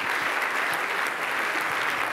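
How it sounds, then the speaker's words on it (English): Audience applause at a live interview event with a sports commentator: dense, steady clapping from a crowd, even and sustained for a couple of seconds. "Please join me in a round of applause."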